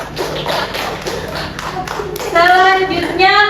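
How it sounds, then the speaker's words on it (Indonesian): Classroom of children clapping for a group of classmates, a ragged burst of hand claps that swells into louder rhythmic clapping, with children's voices rising toward the end. "Beri tepuk tangan untuk kelompok singa"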